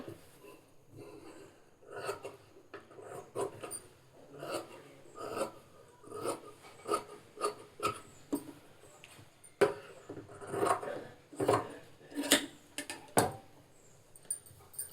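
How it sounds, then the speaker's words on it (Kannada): Scissors trim excess cloth from a stitched fabric strip, making a close series of short rasping snips at a quick, uneven rhythm that runs steadily for several seconds, with no voice over it. "ಎಕ್ಸ್ಟ್ರಾ ಇರೋ ಬಟ್ಟೆನೆಲ್ಲ ಈಗ ಕಟ್ಟಿಂಗ್ ಮಾಡ್ಕೊಳ್ಳೋಣ"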